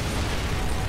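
A dense, steady roar of an explosion in the video game Gears of War 2, broad and loud across the whole moment with a heavy low rumble and no clear start or end.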